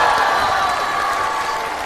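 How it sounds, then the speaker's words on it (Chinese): A studio audience at the final episode of a comedy show applauds for the 23 performers, a dense, even wash of clapping that tapers slightly toward the end. "能允许我向大家要一个掌声"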